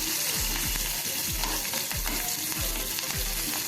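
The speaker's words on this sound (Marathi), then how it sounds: "कांदा आपण आता थोडा गुलाबी रंगावरती परतून घेऊया मंदविस्तवावरती" Finely chopped onion and curry leaves fry gently in a pan over a low flame, giving a continuous close sizzle under a regular rhythm of stirring strokes, roughly two per second, with no talking.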